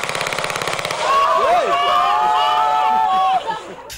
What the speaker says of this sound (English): more shots.